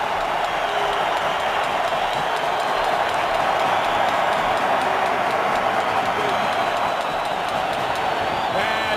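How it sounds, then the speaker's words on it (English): A dense, steady roar from a football stadium crowd at an NFL playoff game, Seahawks at Redskins, cheering continuously from a distance without clear peaks, with faint talk blended in. "Crowd tries to get back into it after watching RG3 limp off the field"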